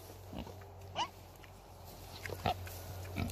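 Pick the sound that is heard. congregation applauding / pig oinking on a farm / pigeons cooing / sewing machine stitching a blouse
pig oinking on a farm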